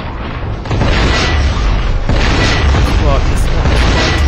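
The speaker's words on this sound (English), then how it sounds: "Well, this one is a spider tank." A spider tank in the SpyHunter Nowhere To Run video game fires and explodes, a loud, dense rumbling boom that continues as a roaring blast throughout.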